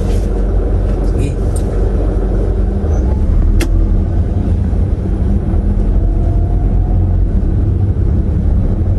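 A car engine runs while driving, a loud, continuous low rumble with road noise filling the whole stretch, steady in level with a brief sharp click partway through.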